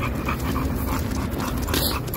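An American Bully dog pants steadily after a walk, a close, loud and continuous rhythm of quick breaths heard alone without voices.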